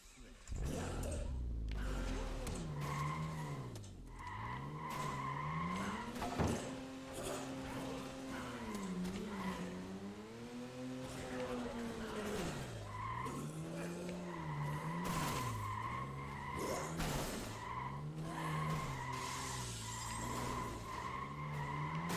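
Car tires squeal and skid repeatedly in the game Dead Rising 2, a wavering engine-and-screech sound sliding up and down in pitch over steady game music, with a voice speaking now and then.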